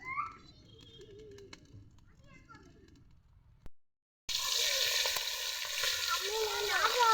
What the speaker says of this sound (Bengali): এবার কড়াইতে তেল দিয়ে নেব।